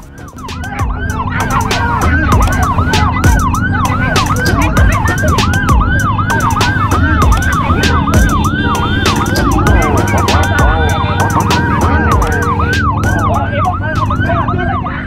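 An ambulance siren wails in a fast, repeating up-and-down cycle, loud and close, over congested traffic rumble and occasional clicks.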